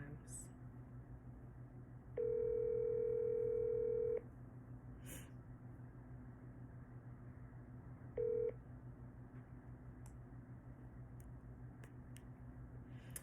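A steady electronic ringback tone sounds for about two seconds, then breaks off with a brief second burst; low background hum throughout and no answer.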